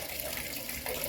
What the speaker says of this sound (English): अब मैं इसमें जो है पानी डालूँगा, ये सर्फ वाला, ये जो है आपका शैम्पू वाला